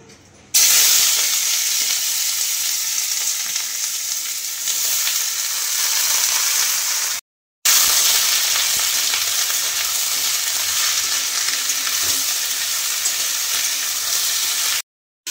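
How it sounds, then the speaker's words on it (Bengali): Cut potatoes and long beans fry in a pan, a loud steady sizzle broken by a short pause midway, with faint stirring beneath the crackle. "এই যে আলু আর বরবটি কেটে নিয়েছি, এটা ইয়ে করব, ভাজা করব"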